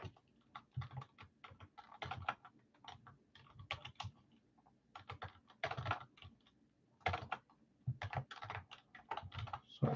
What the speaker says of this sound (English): Sorry, guys, just typing this.